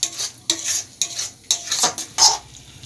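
Katla fish masala with cashews being sautéed in a pan, with a spoon scraping and stirring in quick repeated strokes over a light sizzle, close and fairly loud, with no talking.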